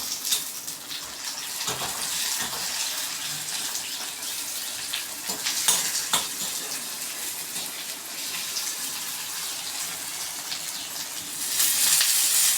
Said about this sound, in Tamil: இப்போ தக்காளி போட்டு வதக்கிக்கலாம்.